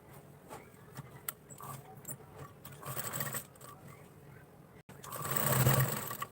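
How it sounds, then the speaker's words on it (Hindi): Sewing machine stitching a seam half an inch from the edge of blouse fabric, a close mechanical whirring that runs in bursts, stops briefly, then speeds up into a louder continuous run. "यहाँ आधे इंच पर हम लोग यहाँ से स्टिच कर लेंगे"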